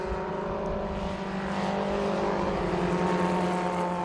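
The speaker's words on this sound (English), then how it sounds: "Rest of the cars going through." Historic 750 Formula racing cars, including Austin 7-based machines, pass on the Brands Hatch Indy circuit, their small engines droning and buzzing steadily as the field streams by, a continuous layered hum of several cars at moderate distance.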